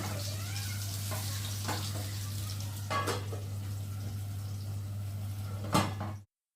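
Pointed gourd and eggplant pieces fry in a pan with a steady, low sizzle, joined by a few sharp clinks and knocks of utensils over a constant electrical hum, which cuts off abruptly at the end.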